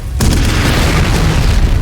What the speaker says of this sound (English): the Penetrator, a burst fire rocket launcher